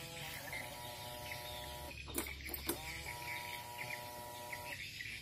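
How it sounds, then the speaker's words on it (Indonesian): The fuel pump of a Yamaha X-Ride fuel-injected motorcycle whirs steadily up close after its relay was replaced. The tone breaks off for about a second, with clicks and clatter in the gap, then carries on. "Nah ini bunyi kan, rotaknya sudah bunyi."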